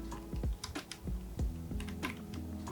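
Keys on a computer keyboard are pressed in quick, uneven clicks and taps, close by and alone, as a keyboard shortcut is typed.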